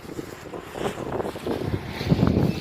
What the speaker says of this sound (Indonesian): Angin datang lagi.